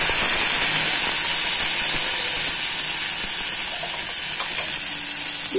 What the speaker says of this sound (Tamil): அதை நல்லா வறுத்து விட்டுப்போம்.